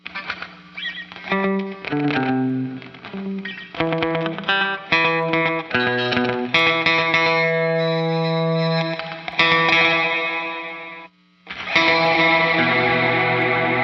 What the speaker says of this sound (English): we're gonna take that reverb and crank it in the mix more